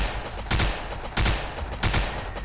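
Gunfire in the zombie-defense video game SWAT and Zombies 2, heard as three loud, sharp shot bursts about half a second apart over a steady busy game background, with no talking.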